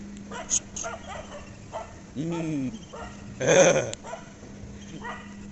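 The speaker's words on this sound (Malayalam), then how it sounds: "മുന്നിൽ പട്ടി കുരക്കുന്നുണ്ട്" A dog barks a few times in short bursts, one louder yelping burst in the middle, with a low steady hum and some talking around it.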